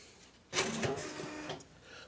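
An Okidata 320 Turbo 9-pin dot-matrix printer loads a sheet of paper, starting with a sudden mechanical whirring and rattling burst that runs about a second, then tapers into a quieter motor hum.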